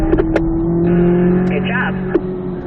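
Corvette C8 Z06 engine on a track, a steady loud in-car drone that shifts pitch through a downshift into a corner, with someone talking over it.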